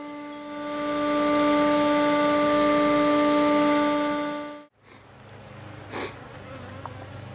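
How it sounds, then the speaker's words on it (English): A bee vacuum used during a bee tree removal whines loudly with a steady tonal drone for several seconds, then cuts off, leaving a soft insect buzz with a brief thump. "Trying to suck up as many bees as I can with the vacuum."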